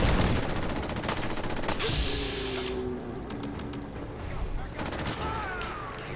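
Raiders opening fire on a ship in Fallout 4, bursts of gunfire crackling in repeated volleys amid busy game noise, with a few tonal effects between shots.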